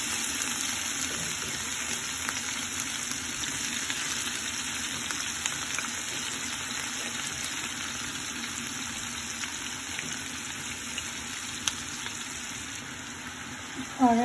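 Chopped onions fry in hot oil for a kabab stir fry, giving a steady, even sizzle and hiss that carries on unbroken at moderate loudness.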